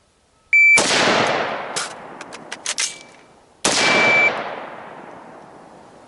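Rifle shots on a Tier 1 Citizen Rifle Standards drill in full kit: a loud, sharp shot, then reload clatter and a few clicks during an emergency reload, then a second loud shot ringing out.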